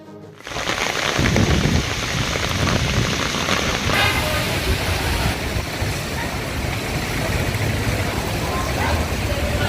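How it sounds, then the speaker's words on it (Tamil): Heavy rain pouring down in Katpadi, a loud, dense, steady hiss and patter that holds evenly throughout with no pauses, close and continuous. "காட்பாடியில் வெளுத்து வாங்கிய மழை"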